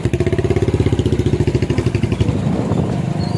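A motorcycle engine idles close by with a steady, rapid pulsing throb, then the beat smooths out toward the end as the bike is brought to a stop in a busy town street.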